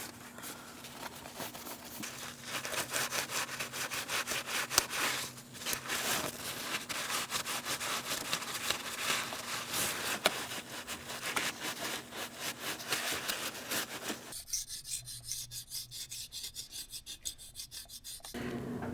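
A razor blade scrapes old gasket material off a 2000–2006 Mini Cooper 1.6L valve cover, a steady close rasping scrape in continuous rapid strokes with no talk.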